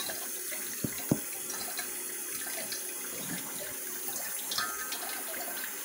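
Water trickles slowly and steadily through a Kangen water ionizer machine, a soft continuous running and splashing with a couple of small clicks near the start.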